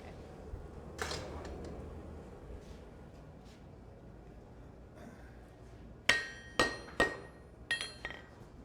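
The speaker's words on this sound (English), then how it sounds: "I'll just get that with a hand hammer." Hand hammer striking a metal corner: a quiet shop ambience, then a series of five sharp ringing clinks in quick succession near the end.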